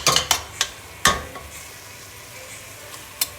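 Vinegar sizzling and reducing in a hot pan over high heat while making spicy sausage soup, with several sharp scraping or stirring clacks of a utensil against the pan over a steady hiss.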